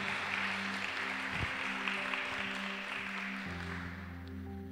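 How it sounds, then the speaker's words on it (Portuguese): A church congregation at a Portuguese worship service applauds loudly in a broad, steady wash of clapping over sustained musical chords that shift partway through. "Aplauda o Senhor bem forte"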